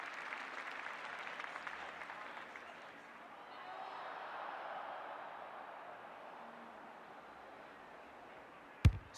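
In the AFL 26 video game, a stadium crowd roars and applauds under a commentator's voice. The cheering swells midway, then a sharp burst hits near the end.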